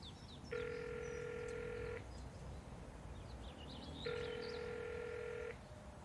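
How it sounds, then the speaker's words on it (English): Two long electronic telephone ringback tones in the Broken Sword 5: The Serpent's Curse video game, each lasting about a second and a half and separated by a pause, heard faintly over soft background ambience with light bird chirps. "Hang on, I'll phone him now."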